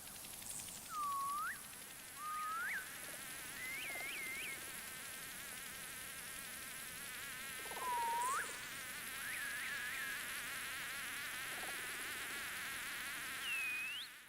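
Synthesized jungle insects built with synths: a pitch-bending cicada call, buzzing bug wings and an angry fly. A steady high buzzing drone runs throughout, with repeated swooping chirps rising and falling over it and no voices.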